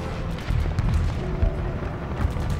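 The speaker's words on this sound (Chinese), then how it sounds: "可这么激烈的枪声一定是他们的主力部队" Heavy gunfire in a kung fu war film set during the anti-Japanese resistance, heard as dense, continuous rumbling bursts and booms close by, with no voices.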